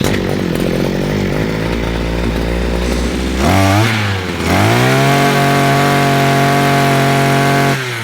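A Dnipro-M petrol grass trimmer engine runs loud and steady, then its revs drop and climb again with a rising whine before settling into a constant high-pitched drone, with no voices.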